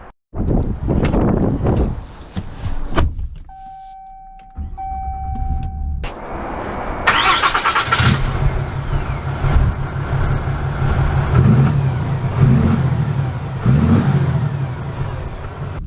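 A 2023 Ram 2500 Rebel pickup cranks with a short whine, then the engine catches and settles into a loud, deep idle with a few rising revs, heard from close by.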